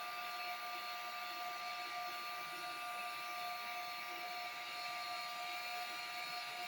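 A heat tool blows steadily over a rhinestone sheet with adhesive wrapped on a skinny metal tumbler, a constant airy whine and hiss lasting the whole stretch with no talk.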